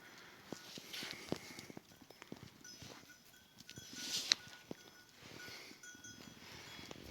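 Newly bought goats walk slowly away across a mountainside in the cold evening, sparse soft hoof taps and clicks scattered irregularly, faint and fairly close, with a quiet outdoor background.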